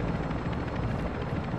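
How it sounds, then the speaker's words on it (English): A helicopter in a video game roars close overhead, its dense rotor chop filling the whole stretch at high, steady loudness. "Oh, helicopter! Oh shit,"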